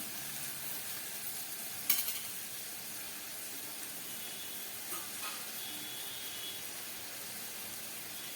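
Bitter gourd curry with mustard oil cooks in a pan with a faint, steady sizzle and hiss, plus a single brief clink partway through, quiet and even throughout.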